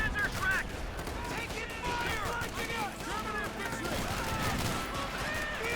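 Company of Heroes 2 battle with dense rifle and machine gun fire crackling continuously and occasional grenade bursts, a busy layered din with a commentator talking over it.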